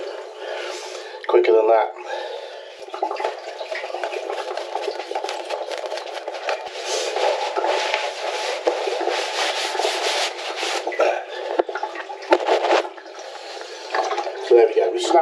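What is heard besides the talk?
water draining from pipe into container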